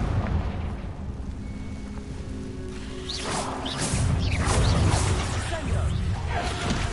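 In Hogwarts Legacy, a Confringo blasting spell erupts midway through with a few crackling, whooshing bursts of explosive noise, preceded by a quieter stretch with a voice talking.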